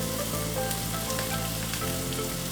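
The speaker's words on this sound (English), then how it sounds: "Gonna give them a little sear." Salmon pieces sear in a hot pan, a loud, dense, continuous sizzle with fine crackling spread evenly throughout, heard up close with no talking.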